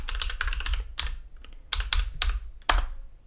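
Close, crisp clicking on a computer keyboard as an SSH key password is typed, coming in quick bursts separated by short pauses, with no voices.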